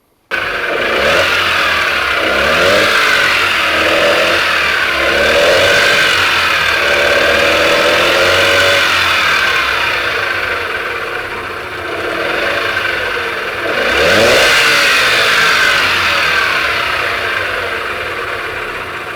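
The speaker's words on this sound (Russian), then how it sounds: "Мотор вот-вот рассыпется, охлаждение работает только на высоких оборотах." A worn outboard boat motor in poor condition, cooling only at high revs, runs loudly and continuously, with its pitch rising and falling through several revving surges before settling back toward idle.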